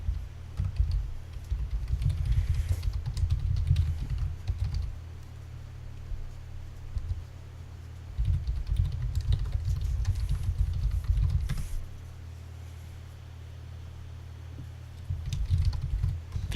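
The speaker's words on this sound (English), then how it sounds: "Furious typing intensifies." Fast, furious typing on a computer keyboard comes in dense bursts of clattering keystrokes, broken by brief pauses, close and fairly loud with no talking.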